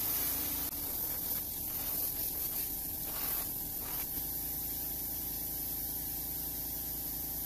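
Steady close spray-paint hiss from an aerosol can laying a yellow stripe down the side of a handmade popper fishing lure, continuous for several seconds with brief pauses.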